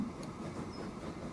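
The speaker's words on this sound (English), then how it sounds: "Look at this incredibly beautiful train." Steam train in the Transport Fever 2 video game rolling on rails at top speed, a steady rumbling run with faint rhythmic wheel clatter, continuous and moderately close with no talk.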